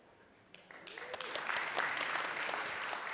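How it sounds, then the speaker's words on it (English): An audience breaks into a round of applause that swells from scattered claps into steady, dense clapping filling the room. "I think you should give yourselves a round of applause for that"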